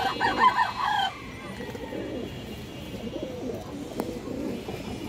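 A big pair of Muslodom (Giribaz) pigeons coo softly and steadily close by, with a brief bird call near the start and a faint rustle in the background.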